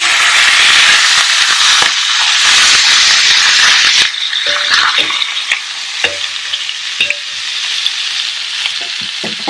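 Food for a tagine sizzles loudly in a pan after being flipped, a bright, steady frying hiss that thins out halfway, leaving crackles and light rattles, with no talk.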